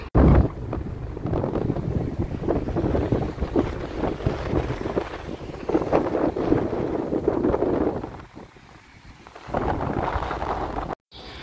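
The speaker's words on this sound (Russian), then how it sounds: "Наконец-то подул ветер, нам становится намного легче." Strong seaside wind in Palma de Mallorca buffets the microphone in a continuous low roar, gusting louder and softer throughout, briefly easing near the end.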